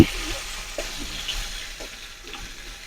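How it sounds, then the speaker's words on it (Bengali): Tilapia fish pieces frying in oil in a pan as they are turned over, a soft continuous sizzle with faint scraping and stirring touches, fairly quiet and heard alone without talk. "এই মাছগুলোকে আমরা এপাশ ওপাশ করে উল্টিয়ে পাল্টিয়ে ভেজে নেই"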